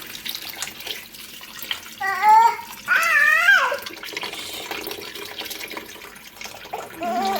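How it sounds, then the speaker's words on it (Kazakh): Water pours into a metal pot over potatoes, filling with a gushing rush and some ringing, wavering tones from the vessel, fairly loud and close. "Картоп батқанша су құятын боламыз."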